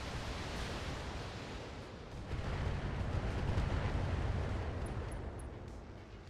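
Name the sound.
weapons fire and explosions in video game BattleTech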